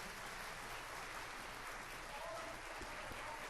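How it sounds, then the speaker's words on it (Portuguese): Church congregation applauding during a Sunday morning service, a steady dense wash of clapping filling the room, loud and continuous throughout with a faint voice mixed in. "Vamos aplaudir mais um pouco, gente."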